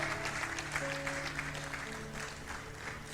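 Members of a church congregation applaud during a sermon, sustained clapping from a sizable crowd with a faint tonal hum from instruments or the sound system underneath.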